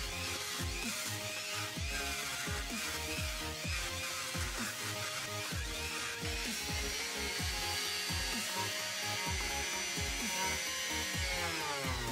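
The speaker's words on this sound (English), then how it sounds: "I then use a bristle polishing wheel with triple polishing compound." A bristle polishing wheel loaded with tripoli-style polishing compound runs against a metal interlocking ring necklace, giving a steady, loud motorized whir with a dense scraping texture that holds for the whole stretch without talk.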